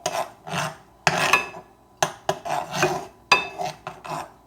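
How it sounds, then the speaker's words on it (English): Eggs being scrambled in a pan, with rhythmic scraping and rasping strokes of a utensil across the pan's surface, repeating about once a second, close and clear with no talking. "That's how I scramble my eggs."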